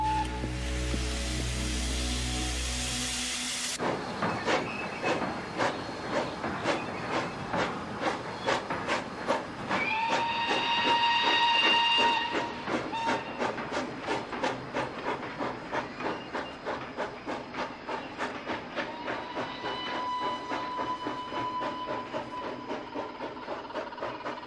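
A train runs steadily along the rails, its wheels clicking in a fast regular rhythm under a continuous hiss, with a few tonal squeals or whistles rising midway and no voices.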